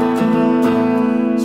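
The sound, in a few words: Rickenbacker 360 electric guitar played in standard mode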